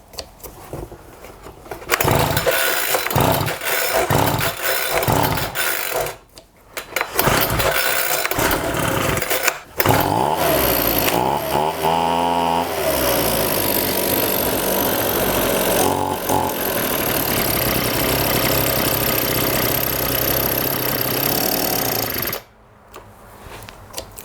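A Homelite Vac Attack leaf blower's small two-stroke engine is pulled over with a few short cranking bursts, then catches and runs loud and steady, slightly rough and lean, close by.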